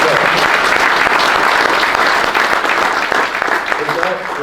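Steady applause from a crowd at a WWII symposium, dense clapping throughout that eases slightly toward the end.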